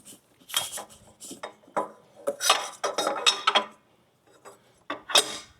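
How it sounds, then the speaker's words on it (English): Spare fuses rattle and clink inside a compartment of a large Gryphon power amplifier's box, a quick run of close, bright metallic clatters with short pauses between bursts. "They give you fuses, spare fuses for you to use in case you blow a fuse or two."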